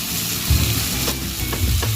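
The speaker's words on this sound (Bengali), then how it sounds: "এবার এর মধ্যে দিতে হবে কুচানো পেঁয়াজ," Chopped onion goes into a hot frying pan for a bottle gourd and prawn curry, giving a steady, close, broadband sizzle with a few stirring bumps and no talking.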